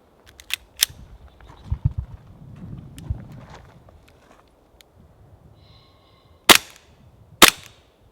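Training pistol with working mechanics but no real bang, fired in a few sharp, dry snaps: two early cracks, then two louder ones a second apart near the end, with quiet handling noises between.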